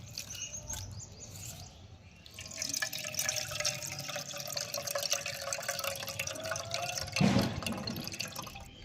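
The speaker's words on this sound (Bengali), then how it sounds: "এবার আমি এই চিড়েগুলোকে এক থেকে দুবার হ্যাঁ? ভালো করে ধুয়ে পরিষ্কার করে নেব" Flattened rice (chira) being washed in water in a kitchen bowl, a steady close sloshing and dripping that swells midway with a brief louder splash near the end, with faint birdsong in the background.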